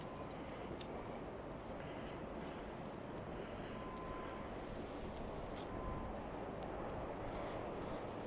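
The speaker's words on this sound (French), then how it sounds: "Il y a un petit peu de vent." Constant low rumbling wind buffets the microphone outdoors near the Château de Champeix in Auvergne, France, a steady broadband roar with no speech.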